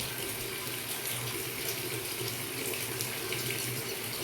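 Rainwater pours continuously in a steady, even rush on a farm, heard faintly and without pause throughout.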